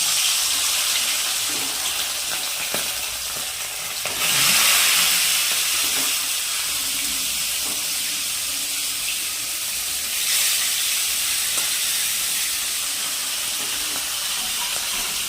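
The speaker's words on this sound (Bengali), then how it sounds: "তেল গরম হয়ে গেছে ফুল দামে এবার আমি মাছ ছেড়ে দেবো" Three bhola fish slid into smoking-hot oil, producing a loud, continuous hissing sizzle that swells sharply twice as pieces go in, then settles into a steady bubbling fry, with no voices.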